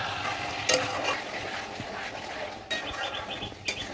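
Mutton is stir-fried in a pan while it is slowly browned down, with a moderate sizzle broken by sharp scraping and stirring clatters.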